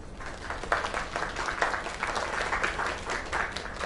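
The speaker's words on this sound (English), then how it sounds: "Another round of applause" An audience claps for a young singer, a lively, sustained round of applause from a crowd with a few sharper individual claps standing out against the steady clatter.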